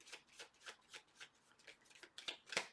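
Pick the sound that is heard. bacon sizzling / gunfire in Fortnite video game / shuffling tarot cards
shuffling tarot cards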